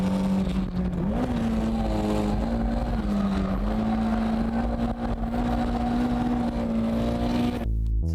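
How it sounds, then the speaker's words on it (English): Toyota AE86 Hachiroku drifting: a loud, steady engine drone holds a high pitch for about eight seconds with a small rise partway, then cuts off abruptly at the end. "So, how was drifting with an underpowered Hachiroku?"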